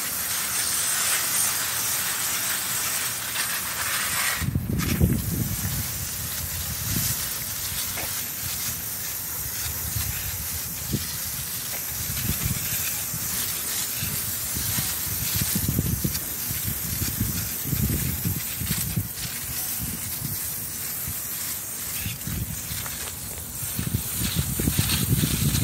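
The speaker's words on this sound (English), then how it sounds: "clean the leaves real good with the water hose or the shower" A hose sprays water in a steady hiss, with heavier splashing bursts as the stream hits indoor plant leaves, continuous and close.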